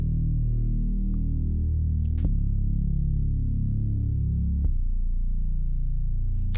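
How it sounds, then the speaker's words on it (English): Layered Logic Pro Alchemy synth bass with a subby low-end layer, playing deep sustained notes that change pitch every couple of seconds, with a few short clicks at note changes; steady and loud with no voices. "I took an Alchemy bass and a subby bass"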